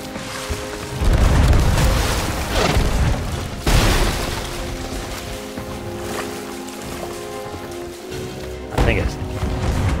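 Ship cannons in the pirate game Sea of Thieves boom in a few heavy separate blasts over a churning background of waves and creaking boat noise.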